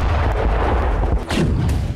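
Russian artillery fire on Ukrainian positions in Donetsk, heavy booms and blasts that merge into a dense, loud rumble, with a couple of sharper cracks standing out near the end.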